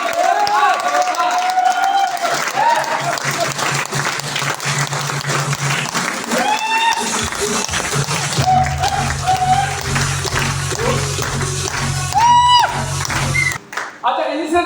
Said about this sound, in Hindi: जोरदार ताली मारो, जोरदार